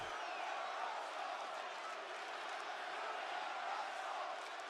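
A wrestling arena crowd roars in a steady, dense wash of cheering and shouting from a large audience, continuous and fairly distant, with no single voice standing out.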